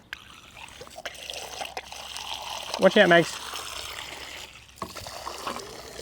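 A pump runs water into a garden sprayer, giving a low steady trickle and flow under speech, with a brief louder gurgling splash midway and a dog nearby.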